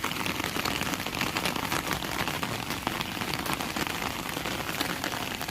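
Steady rain falls across the whole stretch, a dense even hiss of drops striking surfaces, close and continuous with no voices.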